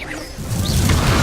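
Confringo spell cast in Hogwarts Legacy on PS5: a short rising whoosh swelling into a loud, sustained burst of energy that holds to the end, with no talk over it.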